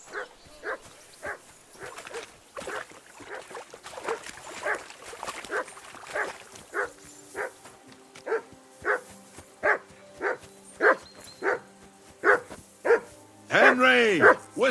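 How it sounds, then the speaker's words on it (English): A dog barks repeatedly in the medieval game Kingdom Come: Deliverance 2, a regular series of sharp, fairly close barks at an even rhythm, with game speech and a louder whimpering yelp near the end. "Whistle at that mutt of yours to stop barking."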